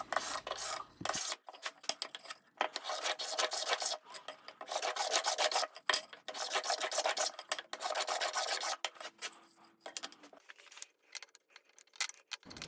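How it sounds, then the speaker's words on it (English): Rough cut lumber being planed to take off splinters and roughness, a run of dry rasping strokes in quick bursts with short pauses between them, close and fairly loud, with no talking. "so I was just planing off the roughness"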